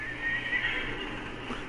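A horse in the Red Dead Redemption 2 video game whinnies in one drawn-out neigh that runs steadily through the short moment over a low, constant game-world background, with no talk.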